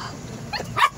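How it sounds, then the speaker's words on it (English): A Yorkshire terrier barks eagerly while waiting for a chicken tender: two short, sharp yaps close by, the second louder, over a low murmur of background noise. "Sissy, I don't think that man likes you barking in that microphone."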